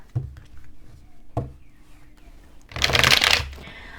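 Tarot cards being shuffled by hand, a few soft taps on the deck followed by a loud, fast riffling burst near the end, close up with no talk.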